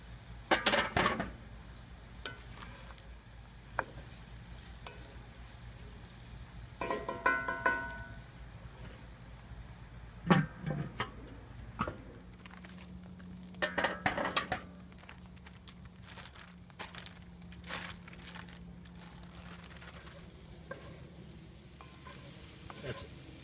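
Onions and garlic are stirred in a Lodge cast iron skillet over a Weber kettle grill, a steady soft sizzle broken by a few scraping clinks of the utensil against the iron.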